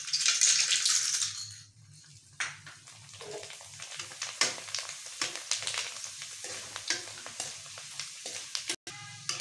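Papad dropped into half a cup of hot oil in a kadhai, giving a loud burst of bubbling sizzle at first that fades into softer crackling and intermittent pops and clatters, close and without talk.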